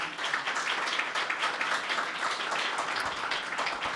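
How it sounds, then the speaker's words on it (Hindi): Church congregation clapping at a Sunday meeting, a dense, steady burst of many hands applauding together, fairly loud and continuous, with no speech over it. "यीशु मसीह के लिए तालियां बजाएं कलीसिया।"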